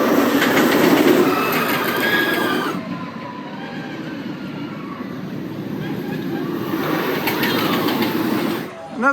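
Twisted Timbers, a roller coaster at Kings Dominion, runs its train past in winter with a steady rumbling roar and clattering wheels that swells, eases and builds again over several seconds, with faint voices underneath.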